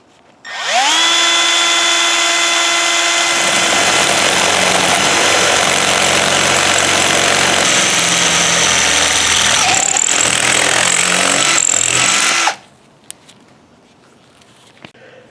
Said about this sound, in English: we're going to go ahead and drill this hole open a little bit